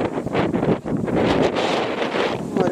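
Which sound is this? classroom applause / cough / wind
wind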